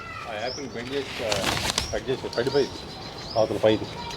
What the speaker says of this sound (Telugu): అసలు ఎంత అల్లరి చేస్తున్నాయో, ఎన్ని ఉన్నాయో పక్షులు